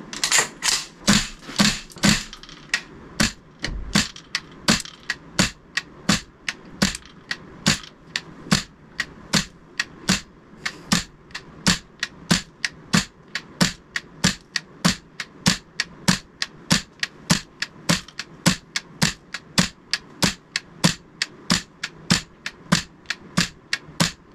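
Sharp, evenly spaced shots from a GHK MK18 gas blowback airsoft rifle on green gas crack one after another, about two per second, close and loud, sustained for the whole stretch.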